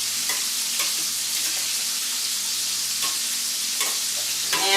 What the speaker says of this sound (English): We're just tossing this sausage, moving it around.